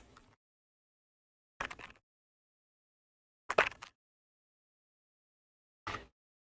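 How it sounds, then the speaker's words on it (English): Keys on a Keychron K2V2 mechanical keyboard are pressed in four short, separate bursts of soft clicks, with long silences between them. "this is the sound of the Keychron K2V2"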